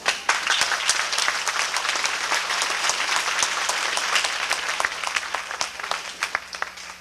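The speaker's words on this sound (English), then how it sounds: "you can stand up and take some applause here" Warm, steady audience clapping at a 1986 marching band banquet and award ceremony, many individual claps audible in an even, moderately loud wash lasting throughout, with no talking over it.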